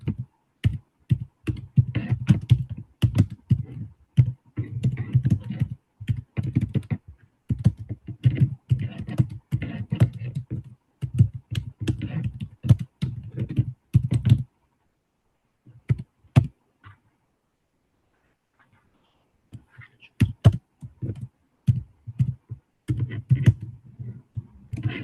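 Rapid, irregular clatter of keys on a computer keyboard while text is typed into Notepad, close and crisp, with a brief pause near the middle before sparser keystrokes resume; no talking.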